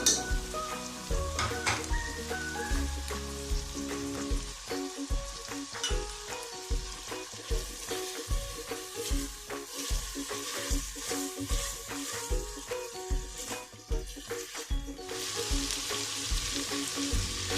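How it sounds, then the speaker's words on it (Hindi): Garlic ginger paste fries in a pan with onion, tomato and green chili, a dense crackling sizzle with rhythmic stirring scrapes throughout, close and steady with no voices. "इसमें मैं लहसुन अदरक का पेस्ट डाल दूंगी।"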